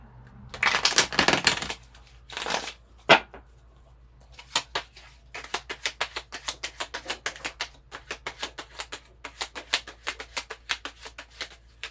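A deck of tarot cards is riffled and shuffled in quick, crisp bursts, followed by a long run of rapid, evenly spaced flicks, close and fairly loud.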